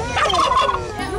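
A domestic turkey gives one loud, close gobble, a quick warbling burst of rapid calls lasting about a second, with no talk.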